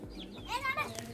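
Mother hen giving soft clucking calls to her chicks, with brief high chick peeps mixed in; faint, short and close by.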